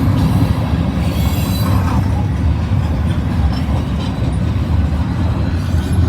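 A Norfolk Southern or CSX freight train rolls past on shared directional-running tracks, a loud, steady rumble of wheels and railcars with faint squeals, continuous and close throughout.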